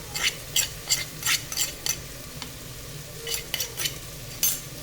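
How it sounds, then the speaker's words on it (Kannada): Tomatoes with turmeric, chilli powder and coriander powder fry in a pan for tomato rice under a low sizzle, while a spoon stirs and scrapes in quick, repeated strokes close by. "ಚೆನ್ನಾಗಿ ಫ್ರೈ ಮಾಡಬೇಕು"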